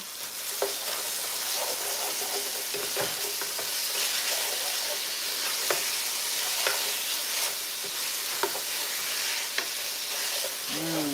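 Steady sizzling of ground turkey frying in a pan with spices, with occasional clicks and scrapes as it is stirred around; no talking.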